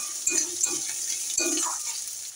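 Crushed spices frying in a pan for a Bengali amude fish curry, a steady sizzle with a couple of stirring scrapes standing out near and close.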